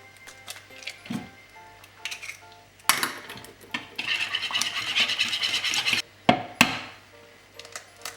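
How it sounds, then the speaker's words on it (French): Sugar, eggs and melted chocolate batter being whisked in a Tupperware solo cooker bowl, heard as irregular scraping and clinking strokes against the bowl, with a dense burst of rapid whisking in the middle, close and fairly loud, with no talk. "je vais mettre la farine et je vais continuer de fouetter"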